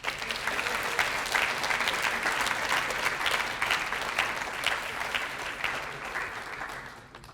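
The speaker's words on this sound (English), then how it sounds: "Please join me in applauding and recognizing the Faraday Award winner," Sustained applause from a ceremony audience for a Faraday Award winner, a dense, even wash of many hands clapping that holds for several seconds and then thins toward the end.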